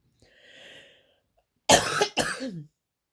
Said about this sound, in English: I'm going to have a cough.